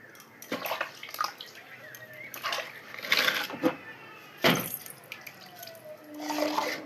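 Mushrooms are washed by hand in water, with bursts of splashing, dripping and sloshing coming in uneven clusters close by, quiet between handfuls.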